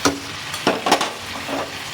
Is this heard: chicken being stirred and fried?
yes